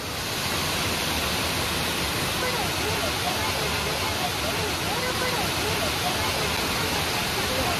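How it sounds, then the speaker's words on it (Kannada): Silver Cascade waterfall in Kodaikanal, Tamil Nadu, roars in a dense, unbroken wash of falling water, loud and steady throughout, with no break in the rush. "ಬಟ್ ಇವಾಗ ಫಾಲ್ಸ್ ನೋಡೋಣ. Silver cascade of Kodaikanal."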